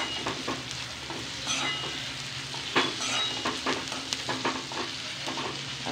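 A spatula stirs moringa leaf sabzi with onion in a frying pan, soft scraping strokes over a low sizzle, close and fairly quiet, with a few sharper clicks of the utensil against the pan.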